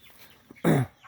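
A single loud, harsh cluck or squawk from free-range chickens on a rural farm plot, short and close, rising out of quiet background.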